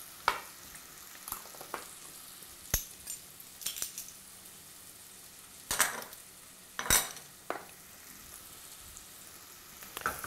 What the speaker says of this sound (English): the curry powder is actually being cooked in the coconut oil